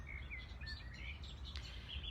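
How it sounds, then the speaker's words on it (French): Birds sing outdoors with a string of thin, high chirps and short trills, fairly faint against a steady low background hum. "les oiseaux sont là"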